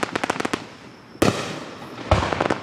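Fireworks exploding at a Gettysburg 4th of July display: a quick run of crackling pops opens, then two big booming bursts land about a second apart, each followed by a long fizzing, crackling tail.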